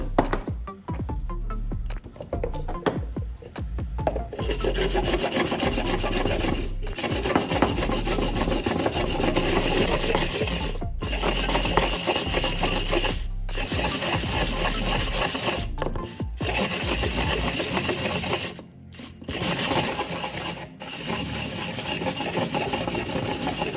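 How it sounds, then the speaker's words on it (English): Sandpaper is rubbed against the cut edge of a glass bottle's mouth, giving a continuous, dense scratching rasp with brief pauses between strokes, close and steady for the whole stretch. "I'll use sandpaper to smooth the cut edge of the bottle's mouth"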